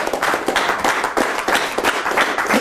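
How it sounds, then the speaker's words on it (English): Audience applause, a dense, moderately loud patter of many hands clapping continuously with slight swells and no voices. "why don't you come on up here to this thunderous round of applause?"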